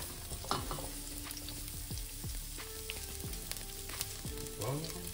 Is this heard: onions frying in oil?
yes